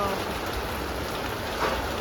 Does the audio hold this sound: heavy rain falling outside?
yes